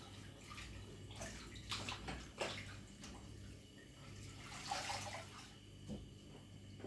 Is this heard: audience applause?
no